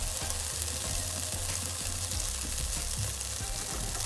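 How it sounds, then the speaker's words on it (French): Oil sizzles steadily in a pan for sautéing chicken gizzards, a dense, constant close-up frying hiss with faint stirring scrapes and no talking. "Je vais mettre un peu d'huile."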